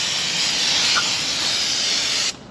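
Pressurized water spray hisses steadily and loudly over the engine bay of a Police Interceptor Explorer for about two seconds, then cuts off abruptly.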